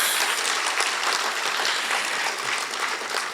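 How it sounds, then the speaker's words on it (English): Audience applause after a Bharatanatyam dance arangetram, a dense, steady wash of many hands clapping together, fairly loud and sustained throughout with no talking over it. "Please give a big round of applause"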